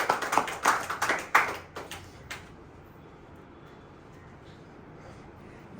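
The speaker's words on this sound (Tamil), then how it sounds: "கைத்தட்டி ஆண்டவரை மகிமைப்படுத்துகிறார்." A church congregation claps along in a quick burst of uneven hand claps that fades after about two seconds, leaving a quiet room with faint background noise.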